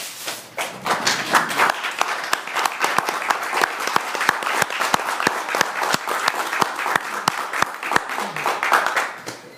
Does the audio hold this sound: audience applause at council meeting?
yes